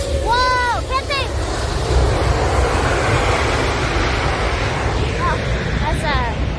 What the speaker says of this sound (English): Oh, that's a big plane.